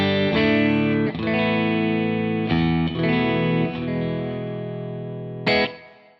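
Electric guitar chords ring out through a BADCAT Cub V amp with a bright, chimey Vox-style tone, struck in a few sustained strums with a brief sharp hit near the end.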